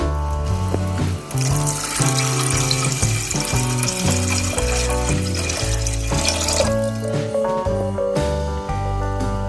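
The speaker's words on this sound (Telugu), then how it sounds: "ఇప్పుడు దీనికి వాటర్ యాడ్ చేద్దాం" Water pours into a cooking pot of rasam seasoned with organic jaggery, a loud steady stream close by for several seconds over music playing in the background, with no voices.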